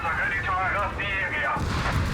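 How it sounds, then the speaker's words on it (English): Heavy in-game artillery and explosion blasts from Company of Heroes 3, a World War II strategy battle with grenades, rockets and flak guns, rumbling loudly and continuously beneath constant excited commentary. "Massive explosions,"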